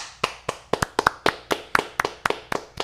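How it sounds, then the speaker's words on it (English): A round of applause for a live-streamed talk show comes through as about a dozen sharp, evenly spaced claps, close and clear, like one person clapping steadily, with no voices over them. "Let's give a round of applause"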